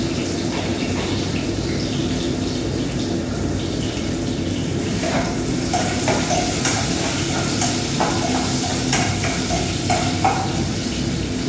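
Onion and garlic sautéing in a pan for salmon ginataan: a steady, loud sizzle and frying hiss with occasional stirring scrapes, and no talking over it.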